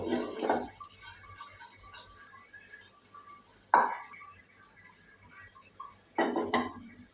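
A spoon scrapes and clinks against a pan while a potato fry is stirred in a home kitchen, three separate utensil strokes with quiet gaps between them over a low background.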